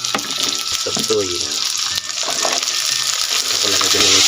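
Water runs into a cooking pan holding fried tofu, sapsoy and bihon noodles with oil, a steady close splashing pour with faint background voices and clinks.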